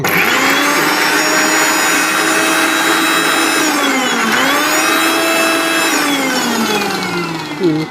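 A mixer grinder grinding rice flour and moong dal into batter, running as a loud, steady whirring drone close by, with a slight shift in pitch partway through as the load changes.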